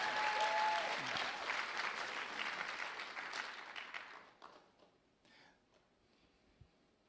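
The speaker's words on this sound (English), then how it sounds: "come on, let's give it a clap." Church congregation applauding during a Sunday service, a steady burst of clapping that fades out after about four seconds into near silence with a few scattered claps.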